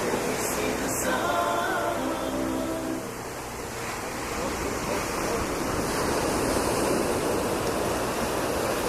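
Ocean waves wash onto a beach at Great Guana, a continuous, full surf roar that swells and eases slightly, close and loud, with no clear talk over it.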